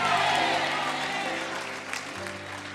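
Church congregation applauding, a dense wash of clapping that fades out while low organ-like chords sustain underneath.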